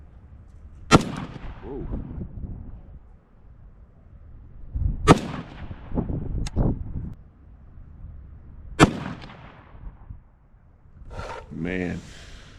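Ruger SFAR rifle fitted with a Timney trigger firing outdoors on a cold, windy day, several sharp loud shots spaced seconds apart with echoing tails, and a voice between them.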